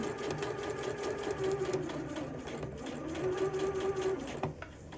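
A sewing machine runs steadily, backstitching a seam on a bodice with darts, its motor whirring close and continuous for the full stretch with only slight changes in pace.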